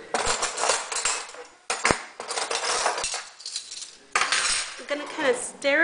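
A spoon stirs herbal hair powders in a bowl, making a run of close, bright clinks and scrapes against the bowl with short pauses between bursts.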